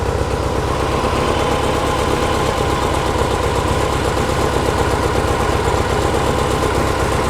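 A VW air-cooled engine idles steadily in a Porsche 356 Speedster kit car with out-of-sync carburetors, a loud, close, continuous rumble with a fast even pulse and no voices.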